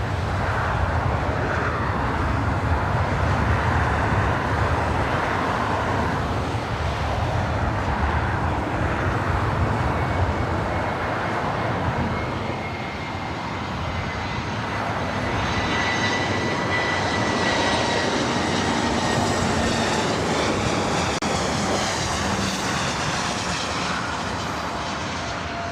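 Loud, sustained jet engine rumble of a Delta Airbus A319 arriving at LAX from San Antonio, swelling slightly in the second half as the airliner passes close by, with no voices.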